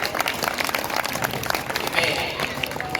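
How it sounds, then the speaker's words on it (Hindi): An audience claps during a school function, welcoming the school manager. The clapping is loud and irregular, and a voice speaks over part of it. "पूरा सदन जोरदार तालियों से उनका स्वागत करे"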